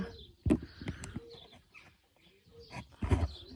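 Racing pigeons crowded into one basket coo and rustle close by in soft, uneven bursts, with quiet gaps between the calls.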